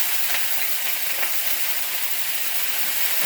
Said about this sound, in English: You see how this oil is smoking in the pan? That means it's time to add the pork.